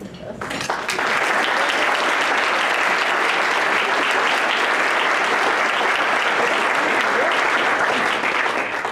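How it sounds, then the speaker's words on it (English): A room of people at an energy committee roundtable breaks into a sustained round of applause for volunteers, starting after a brief moment and holding dense and even for about eight seconds. "Would you please stand so we can give you a round of applause?"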